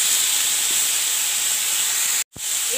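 Chopped potato and papaya hitting a hot pan of lightly browned lentil dumplings, giving a steady loud hiss of sizzling that cuts out briefly near the end, then resumes.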